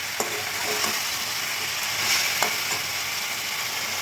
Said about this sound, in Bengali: দিয়ে ভালো করে এটাকে আমি খুন্তি দিয়ে মিক্সড করে নেব